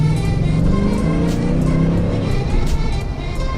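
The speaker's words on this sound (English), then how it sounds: "I'm amazed how a 5-liter V8 can be this quiet" A Mercedes-Benz W140 with a 5-liter V8 drives along, its engine a smooth, steady low hum under constant road and tire noise, quiet and even throughout with no revving.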